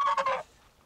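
A goose on a tropical fruit farm lets out a short, clear double honk, close and lasting under half a second, before quiet follows.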